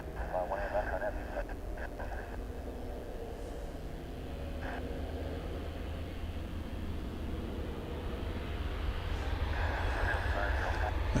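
An airliner takes off at DFW International Airport on a foggy day, its engine roar a steady, distant rumble that swells slightly toward the end, with faint radio chatter at times.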